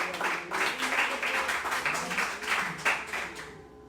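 A church congregation applauding during a service: a crowd of hands claps in quick, uneven bursts for several seconds, fairly loud and close, tapering off at the end.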